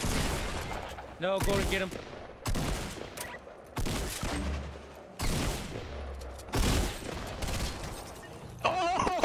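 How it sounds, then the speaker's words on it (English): Bursts of gunfire from a Fortnite Battle Royale match crackle in rapid volleys, several separate rounds spaced across the clip, with players talking over the shots. "I'm getting shot from every fucking direction"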